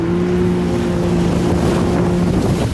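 A rented jet ski roars at full throttle with a steady engine drone, mixed with rushing water and wind buffeting the microphone, loud and close the whole time.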